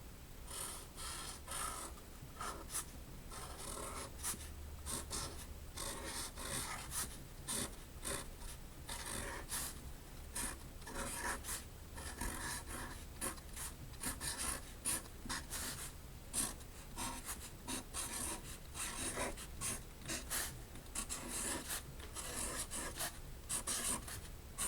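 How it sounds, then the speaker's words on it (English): A Sharpie marker writing on an acrylic paint test canvas, close and quiet, with a steady stream of soft scratchy strokes and small taps continuing throughout. "So I have a Sharpie marker, and I'm going to"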